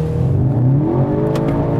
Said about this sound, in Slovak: A musím povedať, že tento motor sa zbiera úžasne.